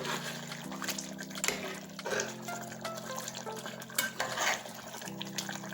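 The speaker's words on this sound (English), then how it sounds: "I'm just gonna pour a tip of water in it" A little water is poured into Jamaican curry chicken simmering in a pot on medium heat, making a soft, steady liquid splash and stirring sounds with occasional clinks of utensils against the pan, alongside a low, even hum.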